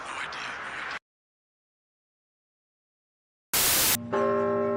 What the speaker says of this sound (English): What's with the bells?